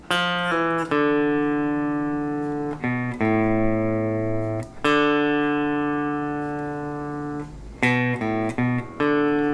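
An electric guitar plays a slow country pentatonic solo lick, mixing short staccato notes with longer sustained ones and quick pull-offs, clear and close with no talking.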